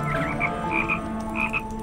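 Frogs croaking in the video game Toki Tori 2+, several short bright croaks in quick irregular bursts over a steady faint hum, with no talk.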